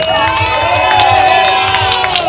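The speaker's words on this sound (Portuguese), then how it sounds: "Uma salva de palmas." A crowd cheers and claps at the podium ceremony of a street running race in Calçados, Pernambuco, with loud sustained whoops and shouts over a steady roar, close and dense throughout.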